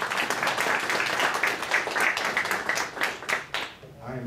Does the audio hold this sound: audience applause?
yes